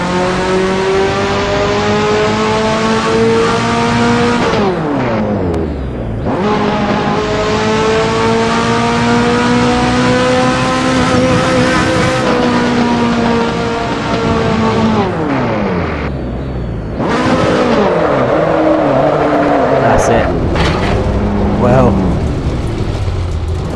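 Ferrari F40 in the racing game Assetto Corsa, a loud engine droning steadily through revs with abrupt dips as gears change and the rear wheel locks up under braking, constant and close throughout.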